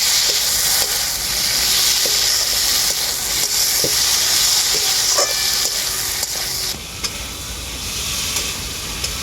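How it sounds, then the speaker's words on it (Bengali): Fried soya chunks and potato sizzle loudly in a pan while a spatula stirs and scrapes with occasional clicks. The close, constant frying hiss eases a little toward the end. "ভেজে রাখা সয়া বড়ি একসাথে আমি খুব ভালো করে কষিয়ে নেবো"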